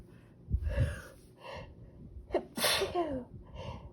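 A person troubled by allergies gives one sharp, loud sneeze close by, preceded by a quick indrawn breath and a short sniff, with brief rustling around it.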